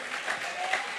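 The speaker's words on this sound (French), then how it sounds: "Acclame Jésus" A church congregation applauds in praise during a French-language sermon, a brief steady patter of clapping from a crowd at moderate distance.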